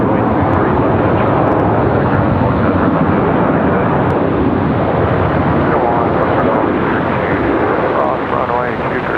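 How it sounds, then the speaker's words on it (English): An airliner touching down on runway 23 left at Raleigh-Durham International Airport produces a loud, broad roar of engines and rushing air that holds steady and close for the whole stretch, with a faint voice beneath it. "Nice smooth touchdown."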